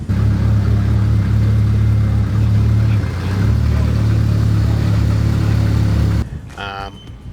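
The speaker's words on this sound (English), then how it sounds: "Idle sounds incredible, and it's all because of the cams." A deep, lumpy SR20 engine idle with big camshafts rumbles steadily up close, loping unevenly, before cutting to a brief different sound at the end.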